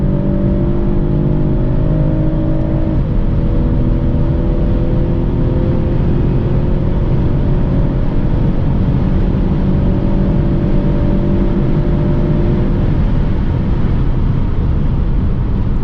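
A 2022 Mercedes E450 facelift, a soft-top convertible, accelerates hard from inside the cabin, a loud continuous engine roar rising in pitch with a gear change, under heavy wind rush.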